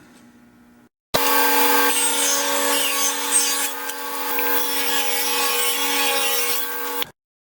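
A power saw cutting strips of Babinga wood for a through-inlay cutting board, starting abruptly after a low hum, then a loud steady whine with rasping cut noise for about six seconds before stopping sharply.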